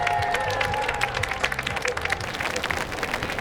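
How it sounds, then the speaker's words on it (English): Outdoor crowd clapping at a George Washington birthday parade in Alexandria, Virginia, a dense, steady patter of many hands with scattered louder claps and a sustained tone running underneath. "we want to give a huge round of applause to General George Washington and Martha."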